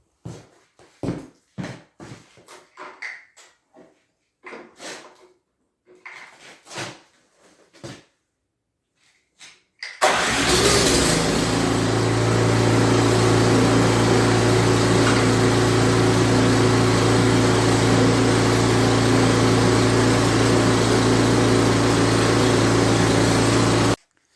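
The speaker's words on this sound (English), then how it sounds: "you press this red button, power goes to this electric motor and fires it up" An Ariens Compact 22 snowblower engine starts on the electric starter after several seconds of scattered clicks and handling knocks. It then roars into a loud, steady close-up running drone that holds until the end.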